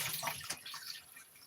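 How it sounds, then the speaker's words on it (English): Juice from tomatoes splashes and trickles as they are drained, a short wet pouring sound with a brief knock partway through, fairly quiet and without speech. "I'm going to dump these tomatoes in. I'm going to drain them first"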